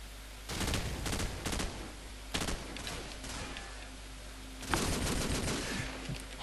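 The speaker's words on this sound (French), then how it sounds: "Là-bas ça tire, je sais pas pourquoi" Gunfire in the video game Call of Duty 4, several bursts of automatic fire with pauses between, moderately loud over a steady game background hum.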